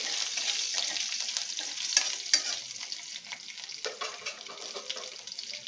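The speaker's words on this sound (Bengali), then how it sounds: "তাতে কাঁচা লঙ্কা আর একটু কালো জিরে ফোড়ন দিলাম।" Green chillies and nigella seeds tempering in hot oil left from frying a hilsa head, a steady close sizzle with a few sharper pops and crackles near the start, fading slightly toward the end.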